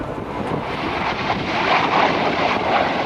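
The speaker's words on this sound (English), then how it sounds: "the F-86 Sabre jet does a bottom-up pass." An F-86 Sabre jet making a bottom-up pass at an airshow, heard as a steady broadband roar that swells slightly toward the middle and stays loud throughout, with no voices.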